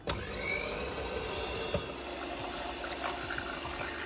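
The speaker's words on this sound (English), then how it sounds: "we need a socket to mix it with the mixer" An electric mixer whirs steadily while blending pancake batter ingredients, a faint continuous motor hum with light clatter, no voices.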